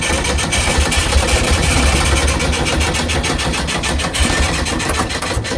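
A Jaguar car engine starts and runs, a loud, rough idle with a steady pulsing throb and irregular knocks, close-up and continuous with no talk.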